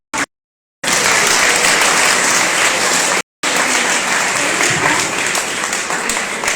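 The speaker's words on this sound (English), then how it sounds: "big clapping for principal sir who has taught" An audience at an annual school award ceremony applauds the principal with loud, sustained clapping, briefly cut off, then resuming at full strength.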